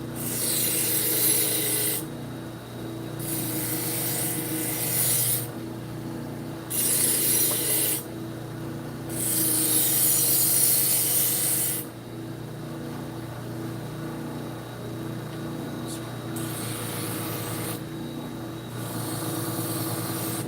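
A file cuts serrations into a knife blade in repeated close rasping strokes, each burst a few seconds long and separated by short pauses, over a low steady background hum.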